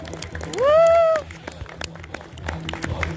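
Scattered applause at an amateur event at an academy, heard as sparse light claps with a brief rising whistle-like tone early on, fairly quiet and thin rather than a full ovation.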